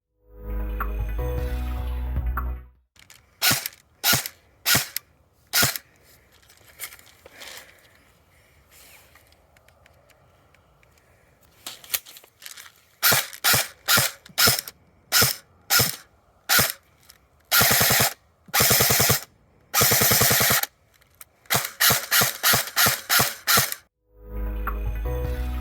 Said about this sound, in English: I'm going to go do the shooting test at the chrono and the range